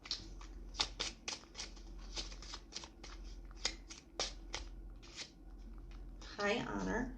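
Kipper cards are shuffled in a run of quick, crisp riffling flicks, close and fairly quiet, followed by a moment of speech at the end.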